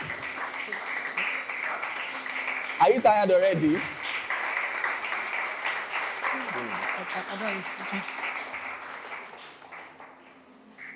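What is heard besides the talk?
audience applause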